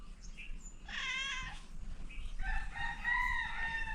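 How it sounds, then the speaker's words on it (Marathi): A rooster crows loudly nearby in a village yard in the morning, one long strained call preceded by a shorter cry, with faint background rustle. "कोणता तरी कोंबडा आहे, ओरडते मजबूत"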